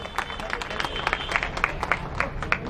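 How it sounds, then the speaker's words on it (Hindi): Rally audience at a political event claps steadily, a dense wash of applause with scattered sharper claps, fairly near and continuous throughout. "मेमबत्ती जी आप जोरदार तालियां बजाकर उनका स्वागत और अभिनंदन करें।"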